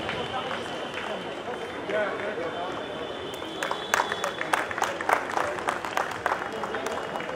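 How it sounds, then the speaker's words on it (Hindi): Audience applause at a mushaira opening ceremony in Bhiwandi, clapping building into a dense, irregular burst of claps in the second half over a steady crowd murmur and a voice. "तालियों की गूंज से इसका इस्तकबाल"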